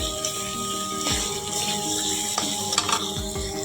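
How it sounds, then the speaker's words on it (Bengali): Ginger and garlic fry in a pan while being stirred for a meat dish, a steady close sizzle broken by a few scraping stirs of the spoon against the pan. "তো এই দেখো আদা রসুন দিয়েছি, দিয়ে আর একটু ভেজে নেবো।"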